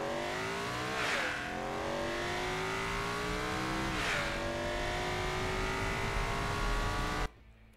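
A race car in a driving game accelerating hard from 0 to 200 km/h, its engine note climbing steadily through two quick gear changes before cutting off abruptly, with no talking.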